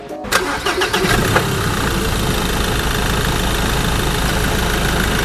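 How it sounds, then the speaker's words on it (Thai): A 2021 Ford Ranger XLT Double Cab with a 2.2 diesel engine cranks briefly, catches and settles into a loud, steady diesel idle close to the listener. "เดี๋ยวเราไปฟังเสียงสตาร์ทกันเลย"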